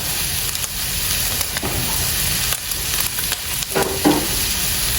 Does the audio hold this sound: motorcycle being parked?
no